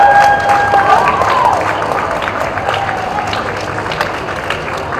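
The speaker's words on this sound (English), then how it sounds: "Big round of applause for Dr. Ananda." A crowd applauds steadily throughout, dense clapping with some voices mixed in, fairly loud and sustained.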